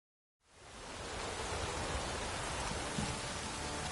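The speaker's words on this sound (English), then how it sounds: "Rain doesn't bother you, it seems." Steady rain falls in Witcher 3, a dense, even hiss of downpour that starts abruptly after a moment of silence and holds constant throughout.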